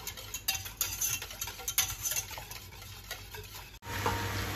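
Spoon stirring a pot of food as it comes to a boil, steady scraping and light bubbling ticks up close, ending with a quieter simmering hiss.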